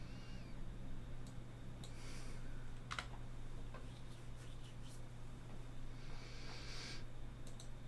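A computer mouse clicks and a keyboard is typed on in scattered, light taps close by, faint against a steady low electrical hum.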